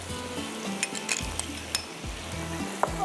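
Minced meat frying in a pan, a close steady sizzle broken by repeated metallic scrapes and clinks of a spoon stirring, several distinct strokes in a few seconds, no talking.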